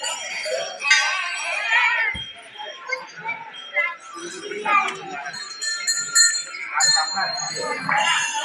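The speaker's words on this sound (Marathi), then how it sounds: "आपल्या पाठीमागं घंटी बांधली" Bells ring at the Peshwa-era Navshya Ganpati temple in Nashik, bright metallic clangs and lingering rings scattered among the murmur of a crowd talking nearby.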